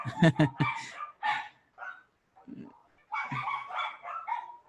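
Several pet dogs bark at a home, sharp close barks in quick bursts at first, then a pause and another run of yelping and barking, with no talk over them.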